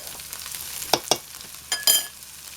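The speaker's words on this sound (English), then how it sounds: "So this is going to be sauteed for about 1 to 2 minutes" Leftover cooked corn sautéing in a pan, a soft low sizzle with a few sharp clinks and scrapes of a utensil stirring, close and fairly quiet with no talk.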